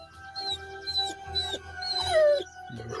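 Dog whimpering in the video game Jason Voorhees: The Hunt, heard as several thin, high whines and whimpers in short bursts, close and fairly faint, followed by a low groan near the end.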